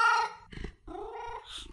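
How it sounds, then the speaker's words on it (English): A cat meowing with a growly, purring undertone in an audio drama, a few drawn-out tonal cries heard close and alone. "There, I hear you, cat."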